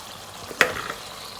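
Marinated chicken going into a pan of softened tomatoes and onions for achar gosht, giving a faint, steady sizzle with one sharp clatter partway through.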